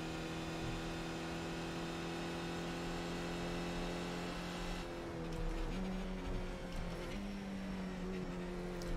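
A Skip Barber race car engine drones steadily in iRacing with the throttle feathered lightly, a sustained mid-pitched hum that wavers slightly as the car eases along.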